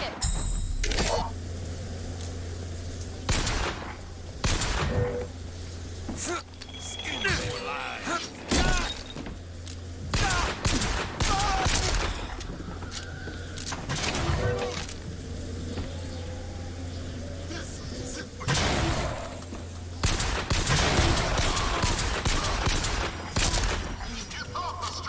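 Gunfire in Bioshock Infinite: loud bursts of shots and rapid volleys crack out at irregular intervals, punctuated by mechanical clanks and creaks over a low droning background.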